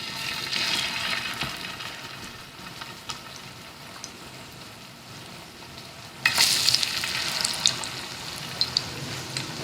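Spicy fish pieces fry on a tawa griddle over a lowered flame, a steady close sizzle that flares louder partway through as pieces shift on the hot surface.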